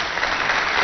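A live audience claps loudly and steadily for contestants from a children's centre and a holiday camp on a stage game show, a dense, even wash of applause filling the whole moment.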